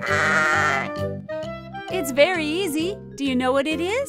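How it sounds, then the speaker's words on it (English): A sheep bleats in several wavering, quavering calls, alternating with a person speaking, over a soft background tone. "That's right. It's a sheep."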